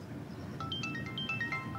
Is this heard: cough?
no